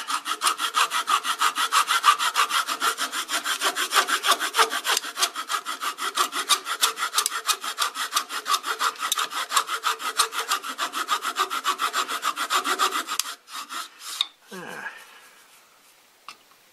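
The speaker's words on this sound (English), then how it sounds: "I'm going to try using this little hacksaw." Small hacksaw cutting wood, fast, even rasping strokes running close and continuous for about thirteen seconds, then a few slower strokes and a brief squeak as the cut stops.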